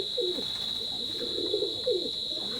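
Small teddy pigeons coo in repeated low, rolling phrases, several bursts spread across the stretch, close and moderate in level, over a constant high-pitched hum.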